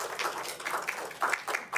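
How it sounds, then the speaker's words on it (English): An audience at a city council meeting claps in a round of applause, a dense spread of hand claps that swells in uneven bursts across a large room, with no one speaking over it. "Round of applause."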